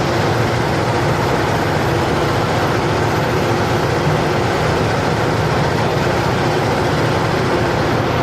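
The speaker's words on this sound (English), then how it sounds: "So much louder in here when you're next to no post and the engine bounces the sound all back into the cab." A heavy truck's engine roars inside the cab on a slow mountain climb through the Similkameen Valley in Canada: a loud, steady, dense drone that never lets up, with no voices over it.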